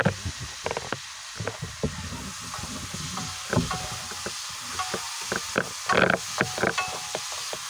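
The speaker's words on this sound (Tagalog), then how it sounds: "Haluin muna natin ng haluin hanggat lambot na yung kamatis mga kamamsi" Garlic, onion and tomato sauté in a hot pan while a utensil stirs them, giving soft sizzling with repeated scraping and clacking strokes at an uneven rhythm, close by and without speech.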